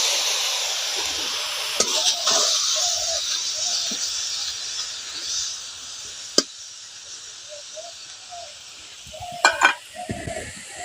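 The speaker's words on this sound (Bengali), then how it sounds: "এখন কড়ার মধ্যে আমলকির বাটাটা দিয়ে দিচ্ছি" Amla paste fries in a kadai with a soft, continuous hiss, broken by a few sharp clicks and stirring scrapes near the end, with no voices.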